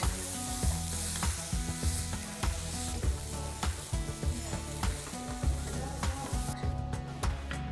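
Coconut, jaggery and cardamom powder stuffing stirred in a pan with the gas off, a steady scraping and stirring with soft sizzle, repeated spoon strokes against the pan surface, close and continuous.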